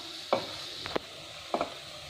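Mixed leafy greens, including red amaranth, cook in a pan under a soft background sizzle, broken by three or four brief stirring scrapes and clacks, quiet and close with no talk.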